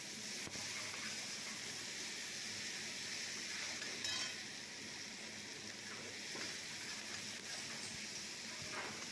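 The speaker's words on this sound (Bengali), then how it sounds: "পেঁয়াজটা ভালো করে ভাজা যাচ্ছিল না" Onions frying in mustard oil give a continuous, fairly quiet hiss and crackle, with a few faint stirring scrapes and no talk.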